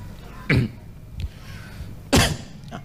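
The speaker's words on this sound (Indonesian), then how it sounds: "Nah, itu batuk." Two sharp coughs ring out about a second and a half apart in a quiet room, with a softer throat sound between them.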